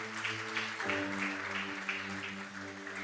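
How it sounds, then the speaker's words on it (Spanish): An audience in a church service claps steadily under sustained organ or keyboard chords, the applause soft and even throughout. "Dele el aplauso fuerte al Señor"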